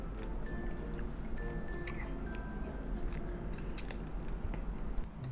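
Raw honeycomb is bitten and chewed up close, giving soft wet squishes and small crackling clicks against a steady low background, with no talking.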